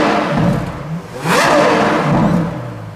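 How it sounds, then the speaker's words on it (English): A Ferrari LaFerrari revs its engine, a loud continuous roar that swells and dips, with a sharp peak in the middle of the rev, heard close with no voices. "That is a seriously impressive exhaust note"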